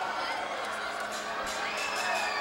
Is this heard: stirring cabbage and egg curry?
no